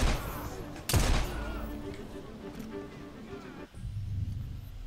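Gunfire in the video game Assassin's Creed Syndicate, with a burst of shots and sharp cracks over a busy mix of game sound, and a voice talking over it.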